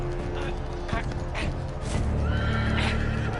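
Horses in a Game of Thrones video game neigh and whinny in several loud bursts, with hoofbeats clip-clopping underneath and a game soundtrack running throughout.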